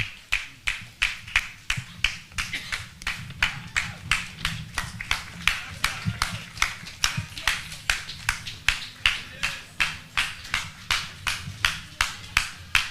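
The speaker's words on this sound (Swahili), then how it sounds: "Tuwapigie makofi." At a presidential event in Kenya, a crowd claps in steady unison with a brisk, even rhythm that continues throughout, with faint voices underneath.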